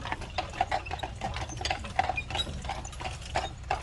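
Hackney horses walk through a barn at a Mackinac Island hotel, their hooves clip-clopping in a steady, fairly close rhythm of sharp knocks over a low ambient rumble, with no talking.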